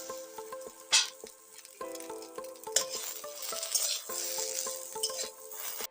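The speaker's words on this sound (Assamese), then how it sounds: "এইখিনি এনেদৰে এতিয়া লৰাই প্ৰায় ঔটেঙাখিনি ভিজি যোৱালৈকে মই ভাজিম" Chopped elephant apple (outenga) stir-fried for a sesame and pea chutney, with metal utensil clinks and taps against the pan over a soft sizzle, close and fairly quiet.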